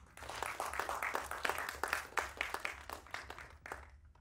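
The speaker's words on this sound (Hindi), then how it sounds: "director of photography Amit Malviya जी के लिए जोरदार तालियां हो जाए" An audience at a film trailer launch event claps in a lively, uneven burst, individual hand claps audible within the applause, rising and falling before thinning out near the end.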